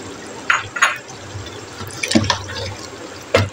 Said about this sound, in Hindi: अब इसके अंदर हल्की आंच करके ये 250 ग्राम दही है जो मैं डाल रही हूँ